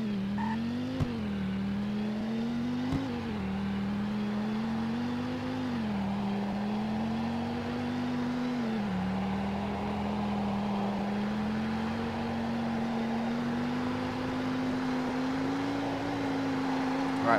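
A 2008 Bullhorn Python in a Roblox top speed test, its engine holding a loud, steady drone that climbs slowly in pitch with brief dips at gear changes, continuous and close with no talk.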